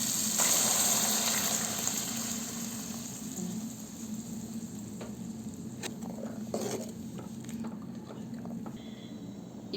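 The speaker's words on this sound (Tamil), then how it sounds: "அது எடுத்து ஊற்றிக்கலாம்." Ground masala paste poured into a simmering tamarind curry for manathakkali vathal kuzhambu, making a steady wet patter and gush that fades slightly over about ten seconds, with no talk.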